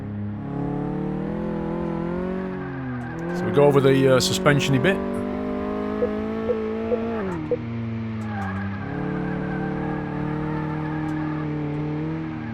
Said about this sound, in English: Let's just give it a quick thrash around the test track